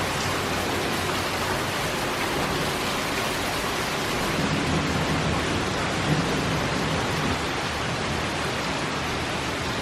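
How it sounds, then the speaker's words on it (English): Heavy rain pours down in a steady, dense roar with a low rumble of thunder beneath it, loud and continuous throughout. "the torrential downpour that's happening outside"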